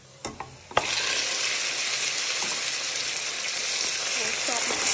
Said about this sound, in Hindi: अब इसमें हम डाल देंगे ये गोश्त।